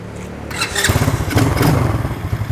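A 125cc Commander ATV engine cranks and catches, then settles into a steady, close, loud running rumble with uneven pulsing and no talk over it.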